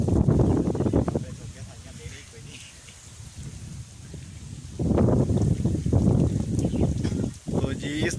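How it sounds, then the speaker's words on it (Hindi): Strong wind blows across open fields of sugarcane and maize, roaring and buffeting close against the microphone in loud gusts, easing in the middle and then swelling again. "तो जी हवा जो है आज बहुत ही तेज़ चल रही है।"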